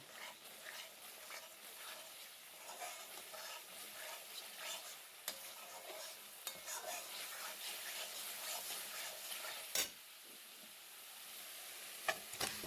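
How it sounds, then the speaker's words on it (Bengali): Spices frying in oil with salt for a Bengali chicken curry, a steady soft sizzle with occasional stirring scrapes and clicks, moderately quiet and continuous, with no talk. "নুন দিয়ে ভালো করে মশলাটাকে কষিয়ে নিতে হবে তেল ছেড়ে বেরিয়ে আসা না পর্যন্ত"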